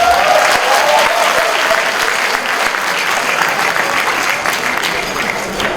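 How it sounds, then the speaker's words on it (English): An audience claps steadily through the whole stretch at a lecture gathering, a dense and loud wash of hands with a faint murmur of crowd beneath, never pausing. "If you are happy, clap your hands."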